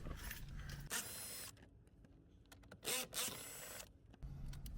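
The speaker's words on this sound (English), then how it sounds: "we're gonna go ahead and undo these 10mm bolts" 10mm bolts undone from a Lexus IS dashboard with a power tool, whirring bursts about a second long alternating with clicks and small metallic clatter, close and without talking.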